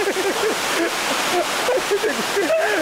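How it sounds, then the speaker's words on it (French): A waterfall on Réunion roars steadily in the rain, its spray blown about by the wind, a dense constant rush of water with voices talking over it. "l'eau de la cascade, ça nous fait prendre de la douche en plus de la pluie"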